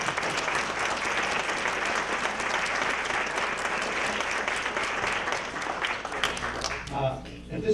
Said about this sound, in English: Dr. Vivian Blevins, demands a round of applause for putting this all together